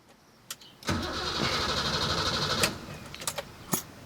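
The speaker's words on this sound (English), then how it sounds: "all we have to do is just start the car and see if it starts" A BMW E30, E28 or E24 engine cranks and catches after a high-pressure fuel pump and filter replacement, then runs at a steady idle. A few sharp clicks come before and after.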